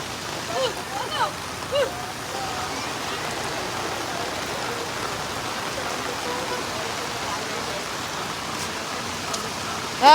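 Floodwater during Typhoon Egay in Occidental Mindoro gives a steady broadband rush of water and rain across the whole stretch, with faint voices in the background and a brief louder bump near the end.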